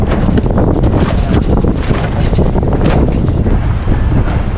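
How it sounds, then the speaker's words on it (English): A brand new sail flogging on a sailboat in strong wind, a loud, continuous roar of buffeting gusts and rapid fluttering flaps with no pauses, close to the microphone. "Flogging our brand new sail."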